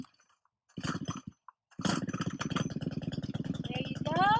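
Brushcutter engine pulled out of choke and started: a brief sputter and a pause, then the small two-stroke catches and runs with a rapid, buzzing putter close by, revving slightly toward the end.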